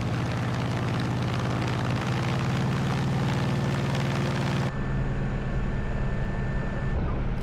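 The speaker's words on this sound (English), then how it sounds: "so we have the Corsair from Milviz Sounds inside of the P-47D that just came out" A Corsair radial engine sound mod plays in a P-47D in the MSFS 2020 flight simulator: a loud, steady propeller-engine drone with a throbbing low rumble, which shifts abruptly to a thinner tone partway through.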